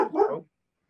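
A 90-pound Labrador retriever gives one short, loud bark burst near the start, then the rest of the second falls silent.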